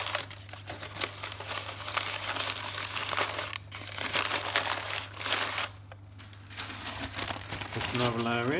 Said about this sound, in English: fold down the paper.